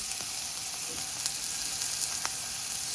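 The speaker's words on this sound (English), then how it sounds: "stir fry that again for 2 minutes" Japchae vegetables stir-frying in a teaspoon of added oil in a pan, with a steady close sizzle and a few soft scrapes and clicks of stirring, no talking.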